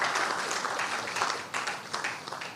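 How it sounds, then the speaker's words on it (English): A seated audience at an anniversary event breaks into a big round of applause, dense and steady clapping that fills the room and tapers slightly toward the end. "Please give him a big round of applause."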